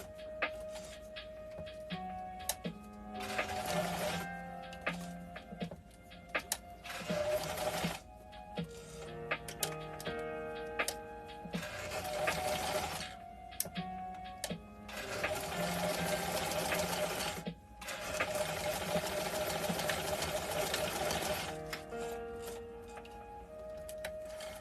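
A home sewing machine stitches a fabric flap in several bursts of rapid, even running, broken by short pauses and light clicks, close and fairly loud with no talking.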